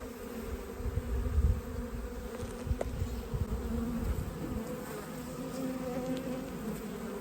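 A swarm of honey bees buzzing around a roof, a dense, continuous droning hum with some louder close passes early on, carrying on steadily throughout with no voices.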